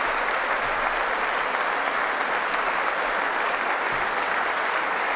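An audience applauds during a Donald Trump speech, a dense, even roar of many hands clapping at once that holds steady and fairly loud throughout, with no voice above it.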